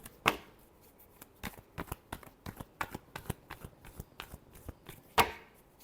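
Tarot card deck being shuffled, a faint, close series of dry papery riffling and tapping clicks in an irregular rhythm, with a couple of sharper snaps along the way.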